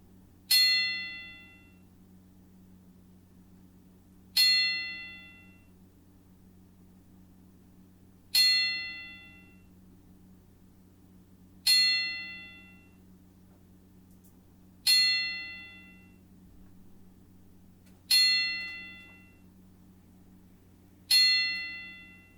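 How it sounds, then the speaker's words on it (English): Ten-bell salute on a single clear bell, struck at slow, even intervals about three and a half seconds apart, each ring decaying before the next, over a low steady hum. "We're going to do a 10-bell salute."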